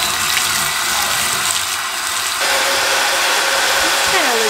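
Tap water rushes steadily into a bathtub for soaking a shrunken merino wool sweater, a loud continuous splashing stream that grows fuller partway through, with a faint squeaky pipe tone near the end.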